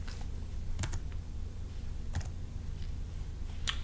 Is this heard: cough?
no